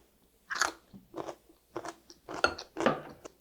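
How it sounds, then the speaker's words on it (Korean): Crisp, close chewing of fresh dureup (angelica tree shoots) mixed with raw onion, a series of crunchy bites at an uneven pace against a quiet background. "양파하고 두릅하고 같이 섞어서 먹어봤는데요"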